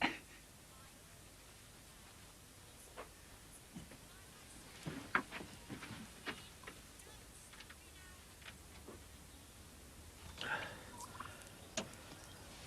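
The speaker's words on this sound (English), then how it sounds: "What's that? A turkey?" Live turkey gobbling at a front door, a few faint, brief bursts of gobbling scattered across a quiet background, somewhat distant and soft.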